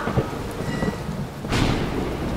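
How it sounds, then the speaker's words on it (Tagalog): Heavy rain pours steadily in a short film while thunder rumbles and then cracks louder partway through, with no voices. "parang lalakas pa yung ulan."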